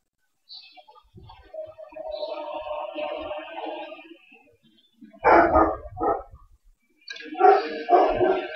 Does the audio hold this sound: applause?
no